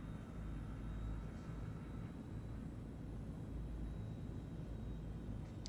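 A Transall transport plane in a flight game cruises slowly with flaps partly extended, a constant, even engine drone and airflow rumble with no talk.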